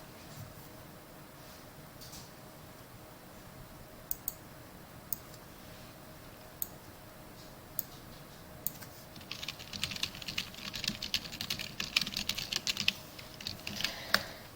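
Computer keyboard keys click in scattered single taps, then a faster burst of typing builds toward the end, fairly quiet and close, with no talking over it.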